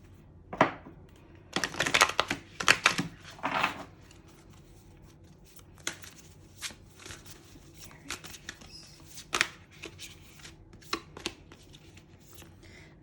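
Oracle moon cards are shuffled by hand at close range, with a cluster of crisp riffling bursts early on, then scattered softer card flicks and taps in a quiet room.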